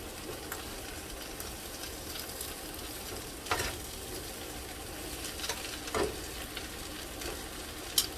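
Garlic sizzling steadily in a hot pan for garlic butter pork chops, with occasional scraping clinks of a utensil stirring it, soft and continuous with no talk.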